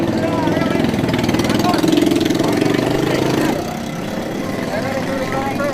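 A stalled military bus, parked for a month, strains to start as its starter cranks in a rapid rhythmic churn, close and loud, with people talking over it before it drops to a lower rumble.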